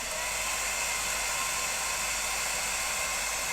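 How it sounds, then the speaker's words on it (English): A hairdryer blows without pause onto a watercolour painting of an eye, a loud, close, unbroken rushing hiss at an even level, with no voices over it. "I'm going to get the hairdryer on that"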